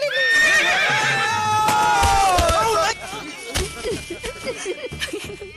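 A horse gives a loud, drawn-out whinny close by, followed by snorts and shuffling, with voices and laughter around it.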